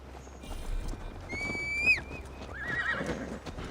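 A horse in Assassin's Creed Valhalla lets out one loud, rising whinny partway through, with hoofbeats clip-clopping around it and a second, softer snort-like call afterward; no one speaks.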